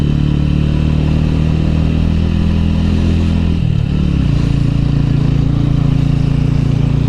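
A TVS Ronin 225 motorcycle engine labours uphill with a steady, loud close-up drone, dipping briefly as the rider shifts before the revs settle back into a continuous rumble.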